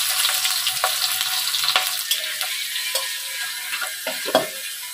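Chopped onion hits hot oil with panch phoron, crackling and sizzling steadily while a spatula knocks and scrapes the pan at irregular moments, close and fairly loud.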